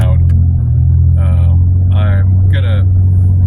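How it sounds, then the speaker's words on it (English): A truck's loud exhaust rumbles steadily in the cab, a deep constant drone under someone talking throughout. "I'm sorry about my loud exhaust, by the way."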